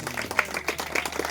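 A gathered audience at an open-air gospel healing meeting claps in a brisk, fairly close patter of distinct hand strikes lasting a moment, with no talk over it.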